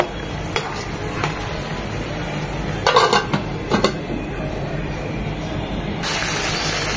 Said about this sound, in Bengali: উল্টিয়ে পাল্টিয়ে মাথাগুলো যেন হয় খুব ভালোভাবে